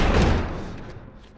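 A heavy door slams and thuds shut as it is barricaded in The Last of Us, one loud close impact fading into a short dull rumble.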